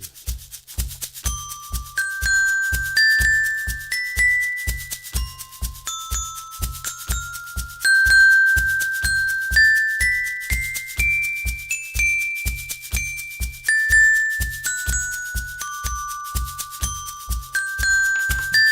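Glockenspiel plays a slow melody of bright, ringing single notes over a repeating looped rhythmic beat, each tone sustaining clearly and loudly.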